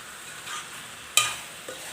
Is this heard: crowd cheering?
no